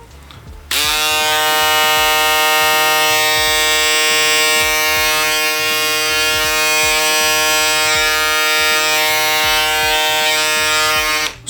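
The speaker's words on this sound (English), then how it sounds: "I think it's a little bit loud, but I feel like all rotary motors start getting louder and louder with time." An Andis ProFoil Plus electric foil shaver from 2019 runs steadily with its rotary motor, giving a loud, close, continuous high-pitched buzz that stays alone for about eleven seconds.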